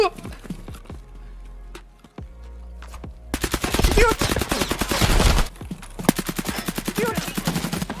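Rapid automatic gunfire erupts in Escape from Tarkov, long loud bursts of closely spaced shots following scattered single cracks, with a short pause between volleys; players talk over the shooting.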